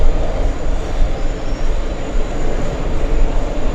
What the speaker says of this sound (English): Big 747 stealing the spotlight